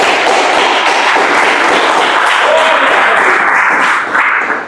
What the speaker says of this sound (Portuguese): Glorifica o Senhor com as palmas,